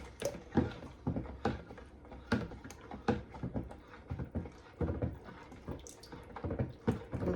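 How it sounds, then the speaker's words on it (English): Lye solution poured into soap-making oils, a close, continuous liquid splashing and gurgling with uneven surges and small drips, moderately loud, no talking. "So this is lye solution going in now."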